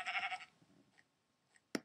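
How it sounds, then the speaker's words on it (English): Minecraft sheep giving a short, clear bleat, followed by faint game ticks and a sharp click, close and quiet with no talking. "Sheep, come back here."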